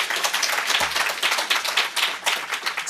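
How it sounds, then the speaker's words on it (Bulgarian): An audience at a healthcare innovation partnership event claps in a dense, sustained round of applause, loud and continuous throughout, with no voice over it. "Още веднъж аплодисменти, момчета!"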